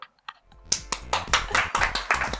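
Hands clap in a quick, uneven burst during a lively studio chat among three Japanese voice actors, with sharp, close claps building into a steady patter.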